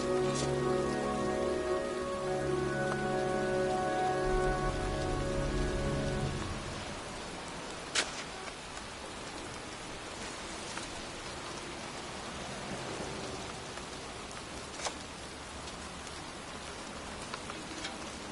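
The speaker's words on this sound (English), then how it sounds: "It's cold. It's raining. I'm standing outside getting soaked." Rain falling outdoors in the video game Heavy Rain, beside a graveyard at night: a loud, dense hiss of rain on surfaces that drops to a softer patter partway through, with a few sharp drip-like ticks.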